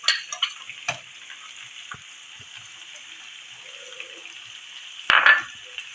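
Onions frying in a pan, a faint steady sizzle with a few clinks of a utensil at the start and a brief louder burst of stirring and hissing near the end, no voices.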